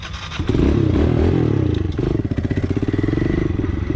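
A Kawasaki KLX 110L dirt bike engine revs hard during footbrake wheelie practice, a loud close buzzing drone that surges up and then pulses rhythmically as the throttle is worked.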